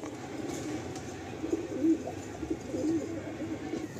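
Pigeons in a loft giving soft, low repeated coos, a few throaty calls rising over a quiet background murmur, close by.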